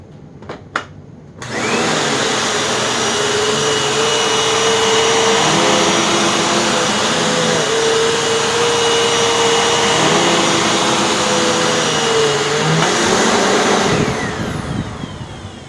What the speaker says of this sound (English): How well do you think this dirt devil's going to do with over 100 nozzle CFM in a bagless machine?